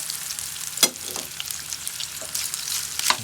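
Spicy Spam sautéing in a pan makes a steady, close sizzle with occasional sharp spatters and crackles throughout, and no voices are heard.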